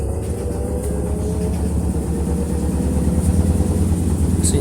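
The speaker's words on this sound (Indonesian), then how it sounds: "Mesin cucinya sudah mulai melakukan pengeringan tahap pertama ya" A washing machine powered by a 1000 VA UPS begins its first spin-drying stage, giving a loud, steady mechanical hum and rumble that stays constant throughout with no voices.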